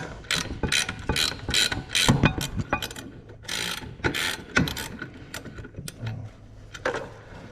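A ratchet clicks rapidly in uneven bursts while threading a bolt into a Brembo brake caliper on a Z31 300ZX big brake kit, close and crisp, with short pauses between runs of ratcheting and no talk.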